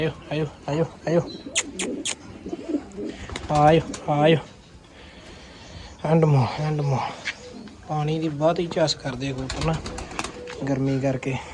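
Pigeons coo at a home where they are fed grain and water, with repeated soft, throaty coos in short bursts mixed with nearby talking.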